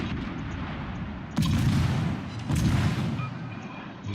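Heavy naval gun salvos from warships, including the Bismarck, Edinburgh and Mahan, in a naval battle video game: two deep booming bursts over a steady low rumble of battle ambience.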